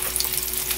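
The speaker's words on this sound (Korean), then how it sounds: "이제 계란물에 발라서 구워주겠습니다" Egg-coated, flour-dusted shiitake mushrooms pan-fry over very low heat, giving a brief, steady, close sizzling hiss with no talk.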